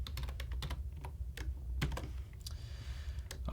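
Rapid typing on a computer keyboard, close and clear, with irregular bursts of crisp key clicks and no voices.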